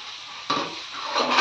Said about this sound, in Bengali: তো এখানে কি হচ্ছে, আলু ভাজা না?